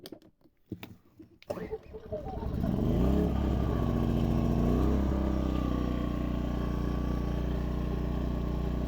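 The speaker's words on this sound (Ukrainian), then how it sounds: "Інверторний генератор на 2 кВт. Запускаємо." A 2 kW inverter generator cranks with a few rough bursts, then catches and settles into a steady, loud, close engine drone that holds for the rest of the clip.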